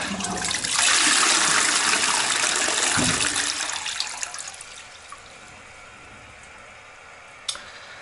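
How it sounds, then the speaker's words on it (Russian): A toilet flushes up close with a loud rushing gush of water that tapers into a gurgling refill trickle, and one small clink follows near the end. "Давайте смоем воду и посмотрим на результат."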